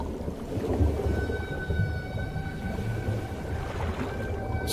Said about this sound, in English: Most famously, as in the song of the humpback whale.